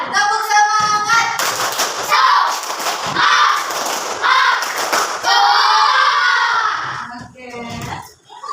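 A classroom of fourth-grade children does a rhythmic class clap together, bursts of claps mixed with shouting voices, loud and close, fading into chatter at the end.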